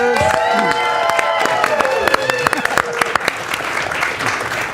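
An audience at a live stage showcase claps loudly for three film directors, dense steady applause mixed with cheering, whoops and shouted voices that carries on without a break.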